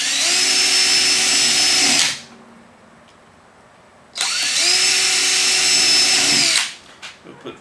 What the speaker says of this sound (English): because you're going to drill 4 holes in it. You're going to use a 1/4 inch bit